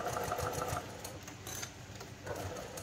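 Sewing machine stitching through the outer and inner layers of a cloth pad along a French seam, a soft close rhythmic whirring with brief pauses and restarts.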